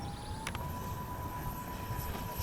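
XFly-Model Twinliner model jet with twin 40mm electric ducted fans spooled to full throttle, a steady high-pitched whine over a constant roaring rush of air, close and continuous.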